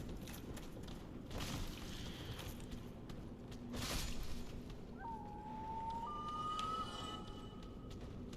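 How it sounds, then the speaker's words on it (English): Toad gives a short rising then level whistle in a video game, heard as a brief clear tone set against steady game background sound and a few dull impacts. "Why did Toad just whistle?"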